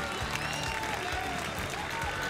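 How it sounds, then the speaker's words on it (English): A local crowd in Newport cheers and applauds for a hometown rider at an X Games event, a steady wash of distant applause and shouting with commentary-like voices mixed in underneath. "getting a lot of response from the local crowd here in Newport"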